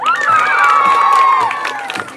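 A crowd of young voices cheers and shouts loudly for about two seconds at a festive afternoon gathering in Cantón Ciricuario, with a rising whoop carrying over the noise.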